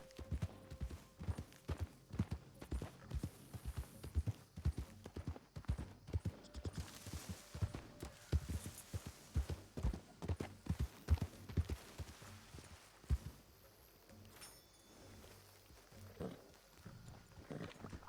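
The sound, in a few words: horse hooves clip-clopping in video game RedM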